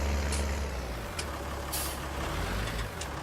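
Truck in Farming Simulator 19 with a low engine rumble idling close and loud, broken by several short hissing air-brake bursts, no voices.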